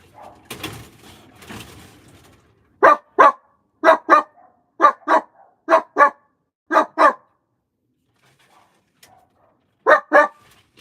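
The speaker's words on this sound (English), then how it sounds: "that dog in the background. The dog is back" A dog barks in sharp pairs and short bursts, about a dozen yips spaced through the stretch with a quiet gap before a final double bark, after brief murmuring at the start.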